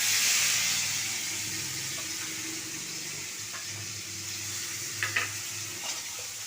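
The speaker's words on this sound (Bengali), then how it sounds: "তুলে নিয়ে এবার গরম তেলের মধ্যে পেঁয়াজ দেব।" Sliced onions dropped into hot oil for an egg curry, a steady soft sizzle and hiss running throughout with a few faint clinks of a utensil.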